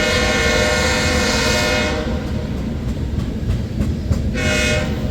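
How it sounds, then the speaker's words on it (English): A southbound BNSF freight train of loaded ethanol cars on the Sioux City sub in Fremont, Nebraska rumbles past loud and close, its horn blaring for the first two seconds and again near the end over continuous rolling wheel noise. "Loaded ethanol heading south on the BNSF Sioux City sub here in Fremont, Nebraska"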